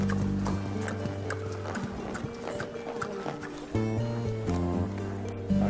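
A horse walking under a rider in an indoor riding arena in Vienna, steady clip-clop hoofbeats close by alongside a continuous low tonal hum, with soft snorting.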